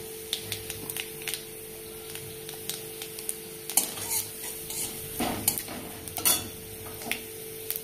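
Ground turmeric hits hot oil with fried crushed garlic while lentil dal is being made, giving a soft, steady sizzle under repeated clicks and scrapes of a utensil stirring against the pot, close by.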